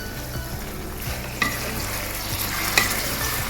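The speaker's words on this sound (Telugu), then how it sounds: "ఇదంతా కూడా ఆనియన్ ఆయిల్లో ఈ మటన్ అంతా కూడా కలిపేసి ఇలా స్లోగా తిప్పుకోవాలండి" Mutton is stirred slowly in onion oil in a pan for a cashew mutton curry, with a steady close sizzle and a few distinct scrapes and clinks of the spatula.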